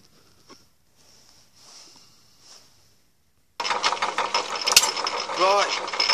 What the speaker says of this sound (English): I've just set lathe running now on, with power feed and everything, so we're in full power automation now